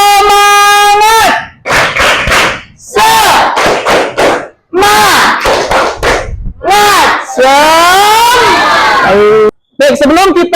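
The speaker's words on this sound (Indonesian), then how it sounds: "kita tepuk semangat dulu. Tepuk semangat." A class of students performs a rhythmic clapping chant, loud group voices shouting in bursts punctuated by sharp claps and short pauses between phrases.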